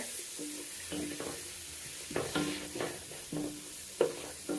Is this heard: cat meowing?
no